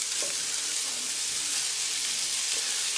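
Ham and shallots fry in melted clarified butter in a small pan, giving a steady, close sizzle that holds evenly throughout with no talking.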